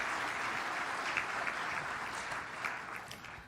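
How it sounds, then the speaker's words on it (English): An audience at a land summit keynote panel applauds a speaker being welcomed to the stage, a steady dense wash of clapping that fills the room without pause and tapers slightly near the end. "let's give a big round of applause for Tara"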